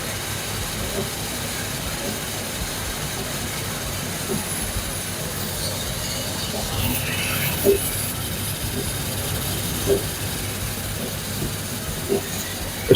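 A Samsung DV80M5010QX dryer running with a steady whooshing drone, something inside rubbing and ticking in faint intermittent knocks over the continuous hum.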